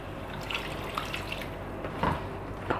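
A cup of water poured into a cooking pot over yogurt for a chicken qorma, a brief close splashing pour with a few louder drips and sloshes.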